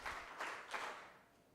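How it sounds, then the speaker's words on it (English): An audience at a media expo in Africa claps in three faint bursts of applause, a short pause between each. "Clap once if you can hear me. Clap twice if you can hear me. Clap thrice if you can hear me."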